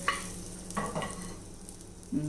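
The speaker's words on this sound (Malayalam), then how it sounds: "ഒഴിച്ചു കൊടുത്തിട്ട് നന്നായിട്ടൊന്ന് ഇളക്കി യോജിപ്പിക്കാം." A spoon stirs tempering into a potato curd curry in a pan, giving a few soft scraping strokes over a low sizzle, with a sharper clatter near the end and no talking.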